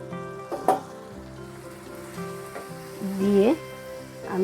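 Turmeric and coriander powder with a splash of water sizzle in a pan for prawn biryani, a soft hiss and crackle beneath a voice speaking.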